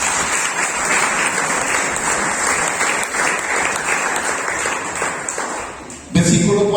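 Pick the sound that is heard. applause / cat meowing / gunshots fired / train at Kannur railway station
applause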